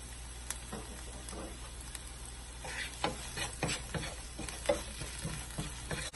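Tomatoes with salt sautéing in a pan for a boneless chicken gravy, a steady low sizzle with scattered stirring scrapes and clicks, fairly quiet and close, no talking.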